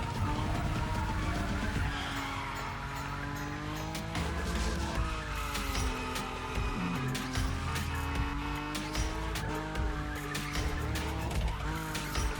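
A Nissan Nismo drifts at high speed in the racing game The Crew Motorfest, its engine droning and rising and falling while the tires squeal in long, continuous slides, loud and close with no talking.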